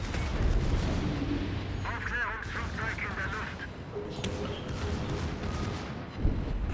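The German battleship Hannover fires its secondary guns in World of Warships, repeated booming shots and rumbling impacts amid game music and effects, with someone speaking over much of it.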